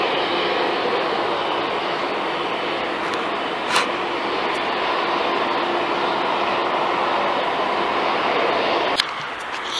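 Continuous loud jet engine roar of an airplane taking off, heard from an airport visitor park, steady and enveloping, with a brief click near the end.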